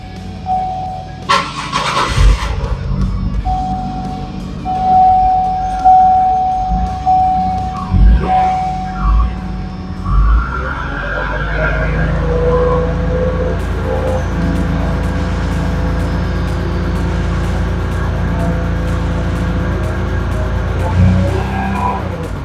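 A car engine runs rough and misfires after being started, a loud, uneven idle with shaky pulsing, preceded by some clunks and brief noises before it settles into a continuous, unsteady rumble.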